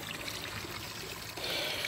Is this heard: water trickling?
yes